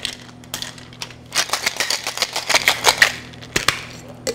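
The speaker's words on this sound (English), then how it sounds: "Top off with some ice. We're gonna shake it up." Cocktail shaker packed with ice being shaken hard, a dense run of loud rattling clatter that builds after a few scattered clinks and ends with a couple of sharp knocks.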